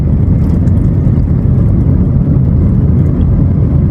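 Jammed road traffic heading toward Tangerang and Jakarta, a steady loud rumble of idling and slowly moving engines close by, continuous with no pauses.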